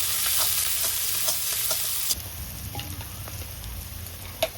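Finely sliced onions fry with cumin seeds in a pan, a steady close sizzle with occasional stirring clicks and scrapes, the hiss easing partway through.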